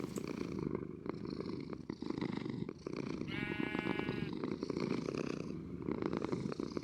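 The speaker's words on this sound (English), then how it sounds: "So now we listened to the purrs." Cats purr in the Minecraft video game, a soft continuous rumble with a brief high harmonic meow-like call in the middle, set against steady game background sound.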